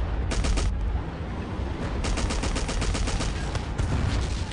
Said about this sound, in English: I can knock him out with machine gun bullets anyway